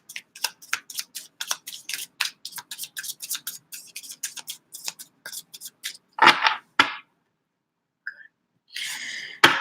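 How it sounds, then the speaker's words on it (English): Tarot clarifier cards are shuffled by hand in a rapid run of crisp riffling flicks. A few louder rustles and then a short burst of card noise follow after a brief pause. "I just want to shuffle the clarifiers"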